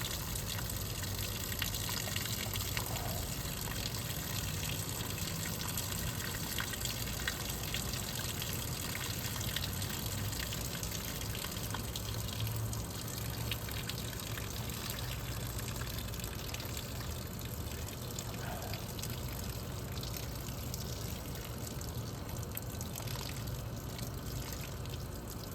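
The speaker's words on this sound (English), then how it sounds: "we're going to go ahead and turn this thing to its left a little bit. Allow all that muck to drain out." Dirty water and muck drain out of a GE Superthrust window air conditioner during a deep cleaning, a steady, moderately loud gushing and trickling rush that continues without a break.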